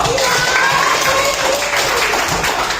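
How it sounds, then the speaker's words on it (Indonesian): Classroom of children applauding a classmate, a loud dense burst of clapping filling the whole stretch, with voices mixed underneath. "Oke, tepuk tangan untuk Pino."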